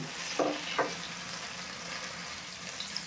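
Rohu fish pieces fry in oil in a pan, giving a steady, moderate sizzle. Two brief clinks or stirring knocks come early on, then the even hiss continues alone.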